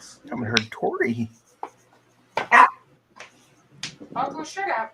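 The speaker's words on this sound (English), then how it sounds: "Stop barking." Several short barks and yips from a dog in a home, mixed with people talking, some bursts louder and close, others brief and scattered.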